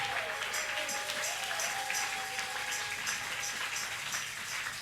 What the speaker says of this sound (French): Est-ce qu'on peut encore acclamer très fort le Seigneur?